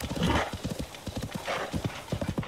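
Horse hooves clip-clop in a quick run with a neigh near the start, from a horse in the video game Zelda: Tears of the Kingdom, close and fairly loud with no talk over it.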